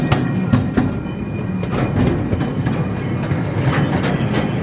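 A miniature train at the National Museum of Transportation in St. Louis rolls along with a steady rumble and rhythmic clickety-clack of wheels over rail joints, heard close and continuous, with no voices.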